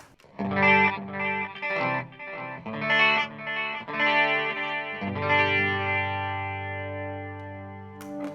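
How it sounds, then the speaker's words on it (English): Electric guitar through a Peavey Vypyr VIP 3 modeling combo amplifier playing a short chordal phrase with tap-tempo delay, the final chord ringing out and repeating as delay echoes fade away. "I can add delay, and the cool thing is with the sanpera I can tap tempo my delay"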